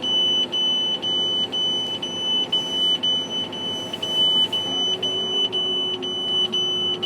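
Tractor warning beeper sounding from an actuator error code on a farm tractor while spreading fertiliser, a steady series of short high electronic beeps repeating in rhythm over low engine hum, close and clear.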